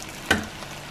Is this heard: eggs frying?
yes